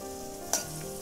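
Onion and masala mixture stirred in a hot pan, a steady soft sizzle with one sharper scrape or clatter partway through, close and unbroken, with no voices.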